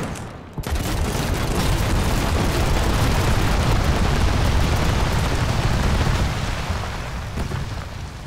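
Warship guns blaze in Trailmakers during a naval battle against a submarine, a dense, loud, continuous barrage of booming shots rolling together for several seconds with no talking.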